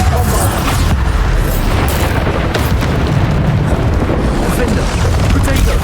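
Bombarda spell explosions in the video game Hogwarts Legacy boom in a loud, continuous blast-heavy roar with deep rumbling and crackle, packed close together with no quiet pauses.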